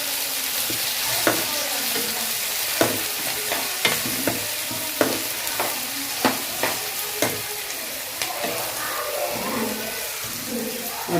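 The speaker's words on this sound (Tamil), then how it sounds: "இப்போ இதெல்லாம் சேர்ந்து நல்லா வதங்கட்டும்" Tomatoes and onions sauté and sizzle loudly in a pan as a spoon stirs them, with steady frying hiss and regular scraping clicks of the utensil throughout.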